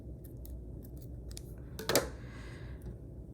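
Scissors trimming the thread of a hair bead, a single soft snip standing out among faint rustling handling sounds, close and quiet.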